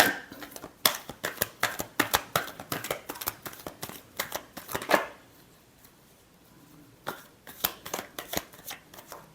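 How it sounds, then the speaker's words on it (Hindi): Tarot cards are shuffled by hand in quick, close papery riffles and taps, broken by a quiet pause midway before a few more shuffling bursts. "Last shuffle."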